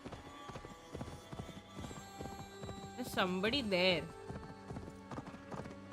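Horse hooves clip-clop steadily through the whole stretch in Assassin's Creed Valhalla, with a horse whinnying loudly near the middle and someone speaking over the gait.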